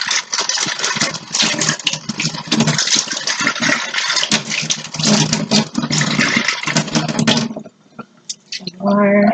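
Water pours and splashes steadily into a container being rinsed out in a home kitchen during cornbread prep, loud and continuous for about seven seconds before cutting off into quieter clinks.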